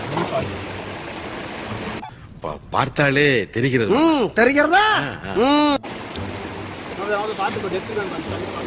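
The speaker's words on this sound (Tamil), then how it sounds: "இங்க பாருங்க இந்த ஃபால்ஸ்," Steady rushing water from a small waterfall in the Kolli Hills runs throughout, with someone speaking over it in the middle.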